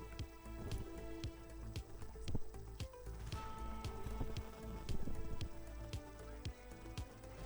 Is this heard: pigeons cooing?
no